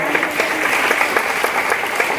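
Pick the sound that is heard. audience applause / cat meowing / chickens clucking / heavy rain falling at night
audience applause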